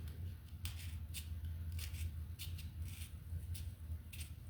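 Scissors snip through thick layers of material for a two-sided pedal stool frame craft project, about eight crisp, close, evenly spaced cuts over a low steady background hum.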